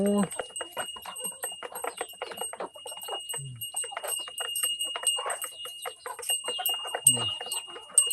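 Goats bleat a couple of times, short and low, amid busy background activity with people talking nearby.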